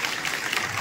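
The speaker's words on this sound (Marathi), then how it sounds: "जोरदार टाळ्या वाजवायचा याच्यासाठी" Audience applause at a school ceremony honouring meritorious students, a short burst of dense, steady clapping that fills the whole moment with no voices over it.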